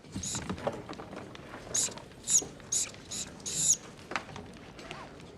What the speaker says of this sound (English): That is such a squeaky marker.